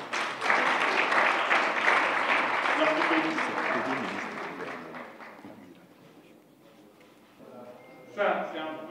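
Audience at a dinner for the Burkina Faso delegation claps loudly for several seconds, the applause fading gradually before a voice starts speaking.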